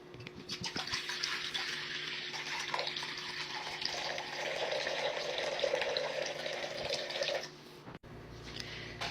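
Room-temperature filtered water pours steadily into a bowl on a kitchen scale for a double batch of sourdough. The stream splashes and rushes close by for several seconds, then cuts off abruptly near the end.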